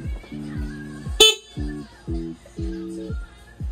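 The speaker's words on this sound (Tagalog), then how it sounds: "Dual horn stock." A stock dual horn on a motorcycle honks in four separate blasts of steady, harmonic tone, with a brief sharp click or knock between the first and second blasts; fairly loud and close, with no talking.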